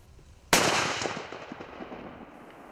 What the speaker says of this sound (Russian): Вот это была уже серьезная заявка на удачный выстрел.